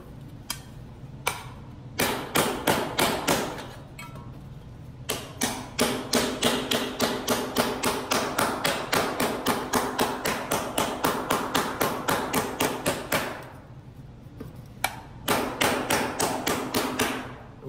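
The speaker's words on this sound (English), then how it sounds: "What I did is I used the big part of the hammer, and then when I start getting like high spots in the metal, I use the smaller part, knock those down." A hammer shaping a curved metal panel with a flange: rapid, steady runs of sharp ringing blows, close and loud, broken by short pauses between bursts.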